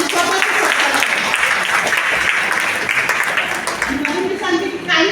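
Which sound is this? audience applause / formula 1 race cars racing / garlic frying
audience applause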